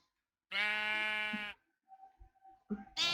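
A Minecraft sheep bleats in a single long, clear call, then another starts right at the end, with faint game sounds in between.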